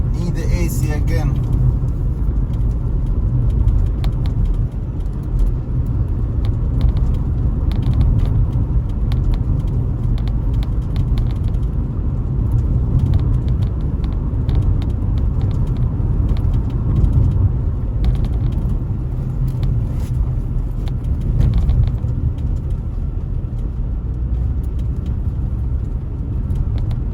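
Inside a car driving along the Dias main road in Jamaica, a constant low road and engine rumble fills the cabin, with faint rattles and ticks over the steady drone.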